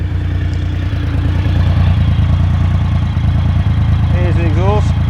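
A 2020 Triumph Rocket 3 GT motorcycle engine starts and idles with a steady low chugging rumble, loud and close, running without a break.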